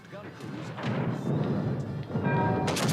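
Anti-aircraft defensive fire from a warship in World of Warships: Legends, a dense continuous rumble of booming flak bursts, with a voice talking over it.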